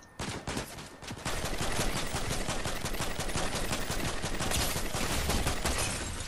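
Rapid, sustained gunfire from a Fortnite match, a dense unbroken stream of shots after a brief sparse opening, loud and close with no talking.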